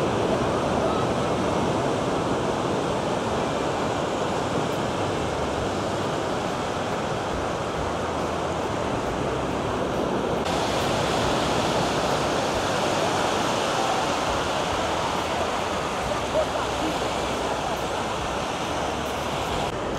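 A continuous, loud roar of surf on a busy beach at Ham Tien, Phan Thiet, with waves breaking steadily and washing in close by for the whole stretch.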